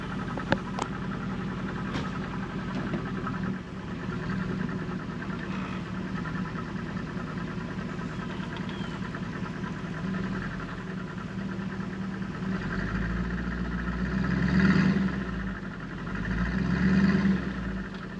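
An old 430 tractor engine pulling a car with flat tires off a U-Haul trailer at a homestead, a steady low diesel idle and rumble that swells into heavier pulling revs near the end, with no voices.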